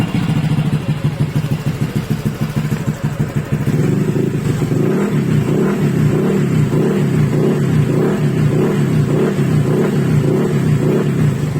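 A Mio M3 scooter motorcycle fitted with a 24-pin aftermarket ECU and being checked for a faulty oxygen sensor revs hard and raspy at first, then settles into a rhythmic, pulsing run at close range.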